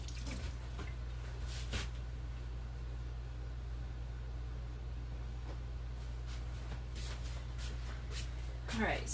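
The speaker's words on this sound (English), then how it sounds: "So now let me rinse my hands." Running tap water pours steadily over sticky hands being rinsed, a soft continuous wash with occasional brief splashes and shuffles, fairly close and moderately quiet.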